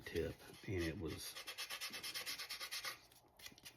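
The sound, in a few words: filing and sanding edges of plastic model airplane wings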